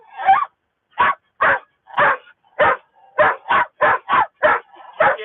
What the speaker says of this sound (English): He puts so much effort into barking.